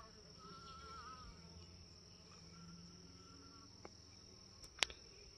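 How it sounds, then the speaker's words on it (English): Honey bees crowd into sweet potato slip cups outdoors. Their faint, steady buzzing drone sits under a thin constant high whine, with a couple of sharp close clicks near the end. "Every one of these cups has got 4 or 5 bees down in it."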